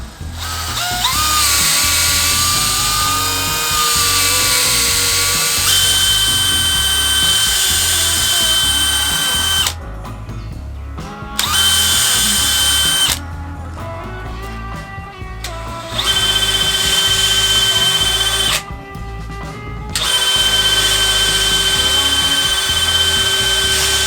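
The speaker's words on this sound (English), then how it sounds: "let me go ahead and get drilling some holes, putting these eye bolts in" A handheld power drill bores holes into a wooden anvil stand for eye bolts, whining loudly in long bursts that rise and fall in pitch, separated by short pauses of near silence.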